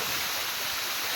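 Steady, loud rush of a hidden waterfall in Govindpur, Nawada, a dense continuous hiss of water pouring down with no pauses.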